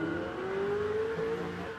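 A no-prep drag racing car on street tyres roars under hard acceleration at a dragway, its engine note rising steadily, loud and continuous, with some tyre noise mixed in.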